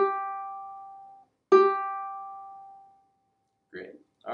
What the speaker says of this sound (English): So we'll pluck that a couple times.